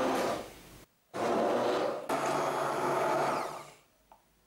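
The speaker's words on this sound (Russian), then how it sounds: "Добавлю 50 граммов сахара и при помощи блендера превращу в пюре." A hand blender purees strawberries with sugar in three loud whirring bursts separated by brief pauses, then stops, heard up close with no talk.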